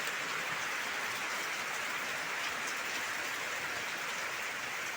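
Steady, dense rain falls outdoors beside a flower garden, a continuous even hiss with no pauses and no voices.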